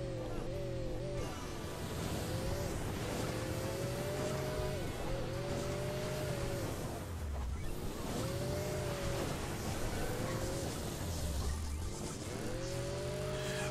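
A car engine in the mobile game Hill Climb Racing 2 revs up in repeated rising cycles, each climb ending in a drop as the throttle eases, steady and close with no voices over it.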